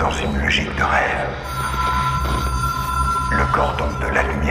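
A telephone rings with a steady, sustained electronic tone through the middle of the clip, set in a game themed around demonic possession, while voices talk throughout.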